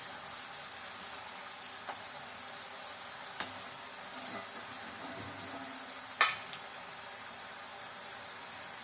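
Murukku frying in hot oil, a steady soft sizzle with a few faint clicks and one sharper tap, quiet and continuous, with no talking.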